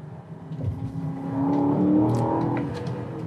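An Aston Martin DBX's 550-horsepower V8 engine revving on a New Zealand road, a deep rising engine note that swells and holds through the middle before easing slightly, heard from inside the car.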